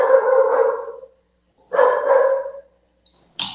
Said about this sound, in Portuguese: Tá ouvindo o cachorro aqui latindo?